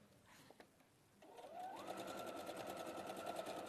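A sewing machine stitches down a dress between its two front pockets, starting after a brief quiet moment and then running as a steady, close, continuous motor whir with rapid needle chatter to the end.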